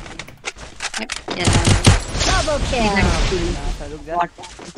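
Rapid video-game gunfire in a multiplayer shooter match, bursts crackling through the clip beneath excited talk from players.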